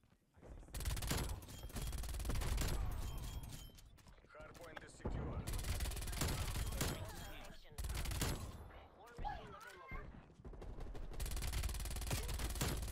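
Rapid bursts of MAC 10 submachine gun fire in Call of Duty Cold War, loud and close, in several long sustained strings separated by short pauses, with faint game sounds in between.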